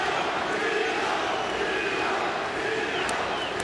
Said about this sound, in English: The crowd here in San Jose has made their choice.